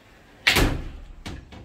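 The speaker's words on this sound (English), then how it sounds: "Just close the doors because the AC is on." Doors in a resort hotel room in Patong, Phuket, Thailand are pushed shut: one loud, close slam followed by two lighter knocks as they settle, with no talking.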